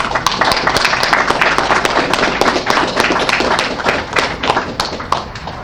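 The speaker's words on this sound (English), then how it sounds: "I believe everybody deserves a round of applause." An audience at a ceremony in Freeport, The Bahamas, applauds loudly and continuously, a dense patter of close, sharp claps lasting throughout before easing slightly at the end.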